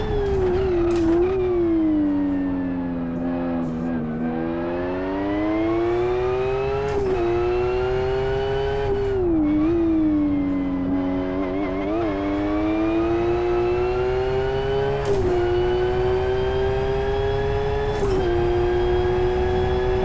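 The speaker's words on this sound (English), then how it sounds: "there's a bit more transmission whine" A racing car in the Live for Speed driving game revs up and down through gear changes, its engine note rising and falling with a thin transmission whine on top, loud and continuous with no talking.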